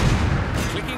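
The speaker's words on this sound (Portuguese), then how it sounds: "Eu vou atirar na vela deles." Naval cannon fire from a ship battle in Napoleon: Total War, aimed at an enemy vessel's sails, with a loud rolling boom that rumbles through the whole second.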